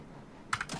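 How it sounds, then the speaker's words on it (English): Loud keyboard key clicks, made on purpose while pressing the shield button during a game of Crossout: two or three sharp, close taps in quick succession after a quiet stretch. "I specifically made a loud click with my keyboard"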